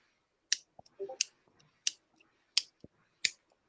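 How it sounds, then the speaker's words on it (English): A failing lighter is flicked again and again, giving five or six sharp, dry clicks at roughly even intervals with faint scraping between them and no flame catching. The clicks sound close and stand alone in a quiet room. "My lighter stopped working."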